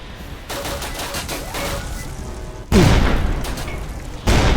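A Skut AMR sniper rifle fires in the Roblox game Edward the Man-Eating Train, with two heavy, booming shots spaced over a couple of seconds above constant game noise.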